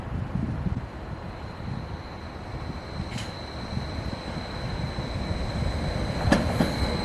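A Class 755 passenger train rolls along the branch line to Felixstowe with a steady low rumble and wind buffeting, joined by a couple of sharp metallic squeals and clicks.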